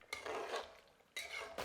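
Macaroni pasta with butter being stirred in a pressure cooker, two bursts of wet scraping and clinking of a spoon against the metal pot, close and fairly quiet, with a pause between.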